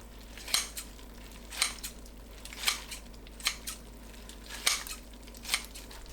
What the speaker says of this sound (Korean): 냄비에 미역 넣고 먹기 좋게 썰어주세요